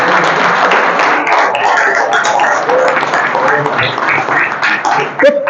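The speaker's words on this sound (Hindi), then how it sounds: "और बात अच्छी लगे ना कोई तो बजा देना ताली।" An audience applauds during a motivational farewell talk about teamwork: dense, steady clapping fills the whole stretch, with voices faintly audible underneath.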